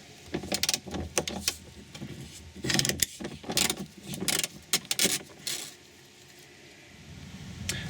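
A ratchet works a size 17 bolt on an Audi A6 rear seat belt inside the car, with several bursts of sharp clicking and metallic rattling close by, then quiet at the end.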